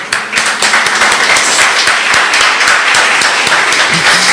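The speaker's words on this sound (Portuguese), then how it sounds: "Salva de palmas para Jesus" A Pentecostal church congregation claps loudly for Jesus, a close, dense burst of many hands with individual sharp claps standing out, sustained at full strength throughout.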